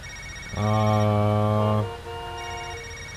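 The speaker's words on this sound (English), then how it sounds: "Phone rings again." A telephone rings in the video game Knee Deep: one long, loud, tonal electronic ring lasts about a second and a half, followed by a softer, fainter tone, with no talk over it.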